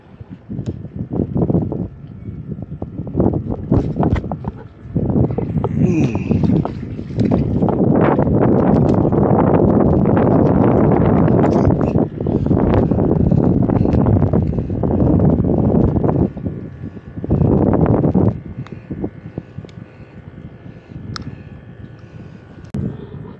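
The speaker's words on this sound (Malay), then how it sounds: "Hari ni payah sikit casting. Angin kuat sangat lah." Strong wind buffets the microphone on a fishing boat on the Sungai Pelek river at Bagan Lalang, roaring in loud sustained gusts with brief lulls, fading toward the end.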